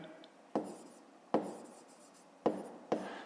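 Pen writing on paper during a fifth-grade math exercise, four short scratchy strokes spaced irregularly, close and faint, with no talk.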